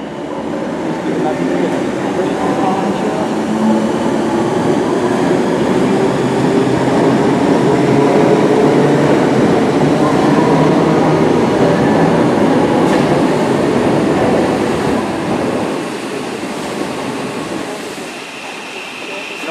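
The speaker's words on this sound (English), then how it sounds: "departing now is 313217. The 11:53 Southern service to West Worthing." A Southern class 313 electric train departs Brighton station, its loud rumbling roar and wheel clatter building steadily and then easing slightly as it pulls away, filling the platform.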